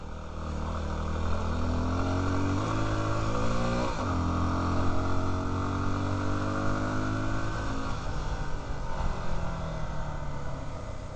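Engine of a Big Dog motorcycle on an Arizona road, loping along at low revs with a steady, deep chugging rumble, one brief throttle swell near the middle, close and continuous under wind.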